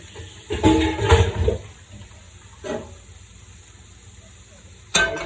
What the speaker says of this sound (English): fill this up with water and salt because I'm going to poach eggs